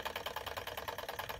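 A Stirling engine kit fuelled by methylated spirits runs steadily on a workshop bench, making a quiet, fast, even mechanical ticking and chuffing rhythm with no voices.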